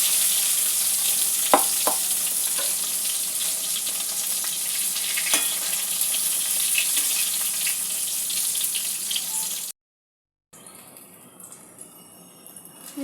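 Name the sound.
brinjal slices frying in oil in a wok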